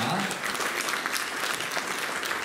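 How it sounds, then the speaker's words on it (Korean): A crowd at a waste-to-fuel technology demonstration and presentation event in Korea applauds with steady, dense clapping at moderate volume, and a voice speaks over it. "큰 박수로 환영해 주시면 대단히 감사하겠습니다"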